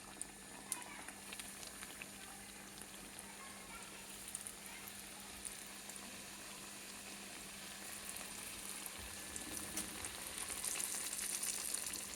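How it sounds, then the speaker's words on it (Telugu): Pesara kachori sizzling in hot oil, a continuous close frying hiss with faint crackles that grows slightly louder toward the end. "అన్నీ వెతుకొని పెట్టుకొని ఇప్పుడు వేయించుకోవాలన్నమాట. ఇలా ఆయిల్ వేడెక్కింది."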